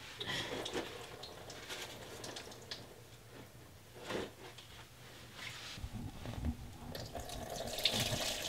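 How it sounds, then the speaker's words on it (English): Coolant drains from an Audi B7 RS4 into a small catch pan, giving an irregular splashing trickle with a few louder gushes and drips, close by and fairly faint, with no talking. "So a little bit more coolant coming out."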